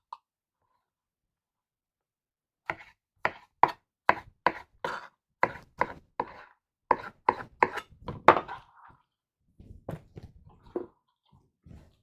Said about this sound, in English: Also, it depends on what I'm chopping with where I use the knife, Sean.